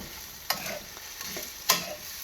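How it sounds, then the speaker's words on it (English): Spicy quail is stir-fried in a pan, giving a soft, steady sizzle broken by two sharp scrapes of a utensil against the pan. "she's going to stir fry it, stir it around"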